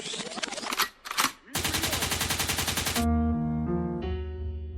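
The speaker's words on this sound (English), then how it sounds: "a gunshot means forward" A sound effect of gunfire: a few sharp single shots, then a rapid machine-gun burst, followed by a musical sting with sustained tones.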